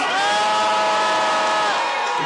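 A rally crowd at a South Korean vigil for forced labour victims raises a loud, sustained cheer with whoops and shouts, a continuous roar that fades away near the end.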